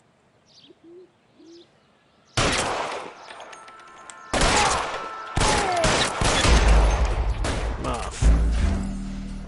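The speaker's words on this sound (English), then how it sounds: "All units, shots fired." Quiet bird cooing gives way to sudden heavy gunfire in the L.A. Noire video game, several loud bursts of rapid shots crackling on top of each other, with a brief spoken word early on.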